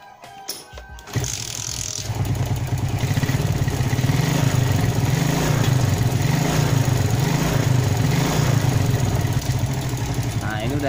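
A motorcycle engine with a freshly adjusted carburetor starts after a few clunks and then runs steadily close by, its throttle rising and falling in regular pulses, with a voice speaking over it.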